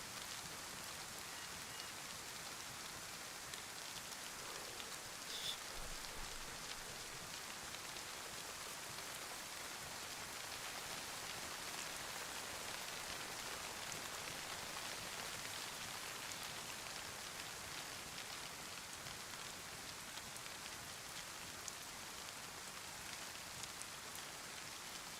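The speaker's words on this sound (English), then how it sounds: "Rain's making it hard for me to hear stuff." Steady rain falls across a DayZ survival game map in Chernarus, a dense, even hiss that holds for the whole stretch with no talking.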